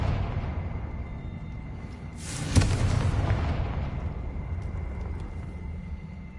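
A Confringo blasting-spell explosion in Hogwarts Legacy lands as one broad, booming burst with a sharp crack at its peak, then a rumbling tail that slowly dies away under low background hum.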